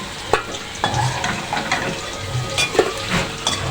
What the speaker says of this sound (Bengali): এই যে গাইস এখন উঠাবে, হয়ে গেছে আলু ভাজা